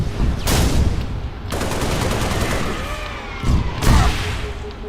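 Sustained video game gunfire aimed at a Pelican dropship rattles loud and close, with repeated rapid bursts and heavy impacts over a few seconds.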